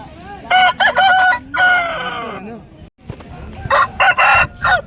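Loud, close Aseel rooster crows ring out one after another at a poultry market, with harsh clucking bursts between them.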